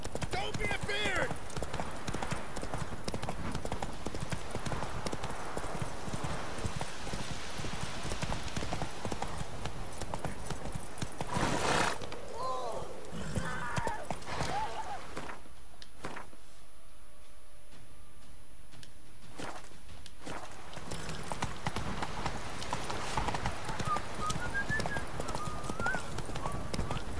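Hooves of the horse Roach clip-clop steadily at a gallop in The Witcher 3, with game ambience and a voice speaking over the hoofbeats, which slow toward the end.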